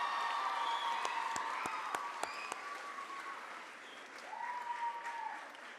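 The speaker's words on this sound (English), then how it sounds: "Can you give a round of applause and a thank you to our parents and our family members who have done everything for us?" Audience applause at a 5th grade moving up ceremony, a steady wash of clapping that rises and thins over several seconds, with a few sharper claps and a short tonal sound near the end.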